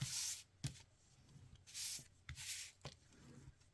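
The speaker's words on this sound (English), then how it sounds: "you're going to want to burnish that down. So we're just going to give that a quick burnish." Double-sided tape is burnished down on a paper mini album with short, soft rubbing strokes, about four passes, very quiet and close. Light taps sit between the strokes.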